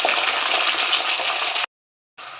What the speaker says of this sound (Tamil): இந்த பட்டை லவங்கம் சின்ன சின்ன பீஸ் தான் சேர்த்துருக்கோம் பாருங்கள் இதெல்லாம் பொரியட்டும்